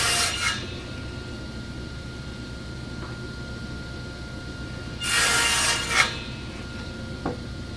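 A saw blade cuts through a wooden box piece in a short burst of rasping, loudest around the middle, with a few faint knocks of wood before and after in a quiet workshop.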